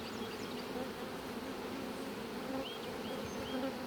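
Honey bees drone from an open hive being inspected, a dense, steady buzz filling the air close by, with individual bees whining past now and then and no talk.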